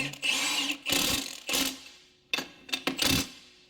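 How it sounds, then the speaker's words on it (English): Lug nuts are run down with a power tool to seat a brake drum: several short, close whirring bursts separated by brief pauses, each spinning up and cutting off. "Now, I'm going to use my lug nuts to run my drum down."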